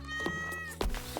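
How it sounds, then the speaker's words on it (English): A cartoonish cat meows twice in the Stardew Valley farming game, short bright calls over a steady soft musical backdrop. "Oh, here's our cat, by the way."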